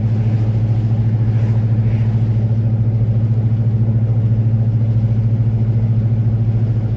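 A steady low idle from an old full-size rear-wheel-drive car's engine, an even rumble holding constant throughout with no voices.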